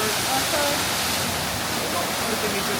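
Waterfall on a hike near Cotopaxi, a loud, steady rushing roar close by, continuous throughout, with a person's voice faintly over it.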